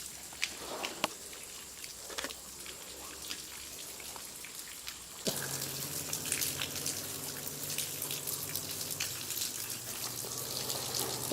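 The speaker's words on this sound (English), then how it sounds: "That's a lot of water." Water drips and trickles steadily inside a flooded coal mining cave, a wet patter that grows louder and denser in the second half with no talk.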